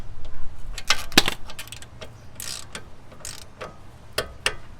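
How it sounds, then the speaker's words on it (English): Torque wrench tightening bolts to 50 foot-pounds on a control arm brace for a Hyundai Veloster N, giving scattered close metallic clicks and ratchet bursts with short gaps between them. "you get your torque wrench, and then you just torque them down"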